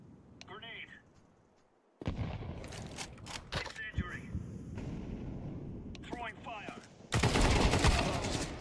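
Counter-Strike 2 gunfire sounds in sharp cracks and short bursts, with a louder sustained barrage near the end. Someone talks in between the shots.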